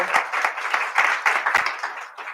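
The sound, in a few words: audience applause for the First Fridays board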